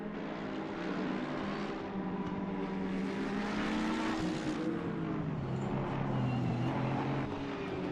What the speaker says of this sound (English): looks like we've got a car around on the formation lap already